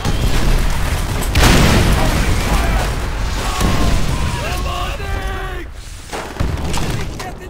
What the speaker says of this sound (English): Fire the panzer